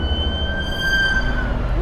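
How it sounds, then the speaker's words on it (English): An ambulance siren wails on a city street, heard from inside a passing car as a steady loud tone over road rumble, ending with a short rising sweep. "Ambulance."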